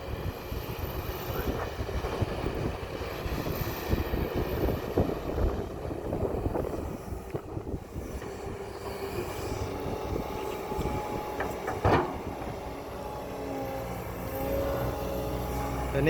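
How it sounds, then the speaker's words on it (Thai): Kobelco SK200-8 excavator with a four-cylinder Hino turbo diesel engine moving wood chips, a continuous loud engine drone with shifting hydraulic strain, clanks and a sharp knock near the end. "ใช้เครื่องยนต์อีโน่นะครับ GO 5E นะครับ 4สูบเทอร์โบคอมมันเร็วนะครับ"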